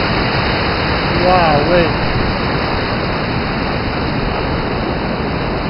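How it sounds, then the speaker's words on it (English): A small summer waterfall spills over open rock at a natural rock slides area, a loud, steady broadband rush heard up close, with a man's brief exclamation over it. "Just a little waterfall there in the summer."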